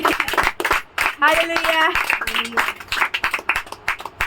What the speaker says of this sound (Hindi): उसके लिए तालियां तो बनती है